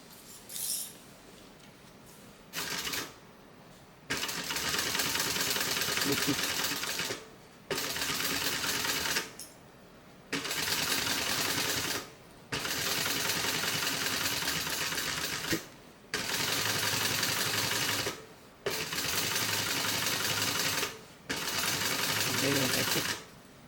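A sewing machine top stitching a fabric bag, running in repeated loud close bursts of rapid needle chatter separated by short quiet pauses, with no talk over it.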